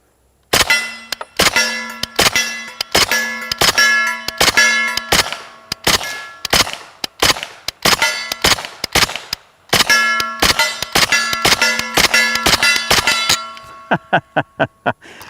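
Rapid suppressed shots from a Kalashnikov USA KP9 blowback pistol ring a steel plate target, each a sharp metallic clang with a bright lingering ring, fired in quick strings with short pauses and a fast final burst.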